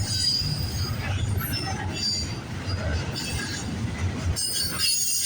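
A CN freight train rolls past at a level crossing on a rural line, a steady loud rumble of railcars with wheel squeal and hiss near the rails, continuous throughout with faint voices in the background.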